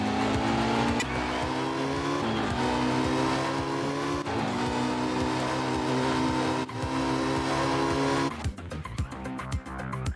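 A Porsche rally car in a racing video game accelerates hard, its engine note climbing through gear shifts with tire noise underneath, loud and continuous before easing off near the end.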